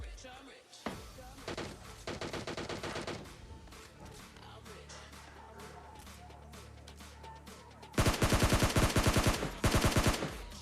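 Gunfire in the video game PUBG Lite comes in rapid automatic bursts, one early volley followed by louder close bursts later, with quieter game ambience between.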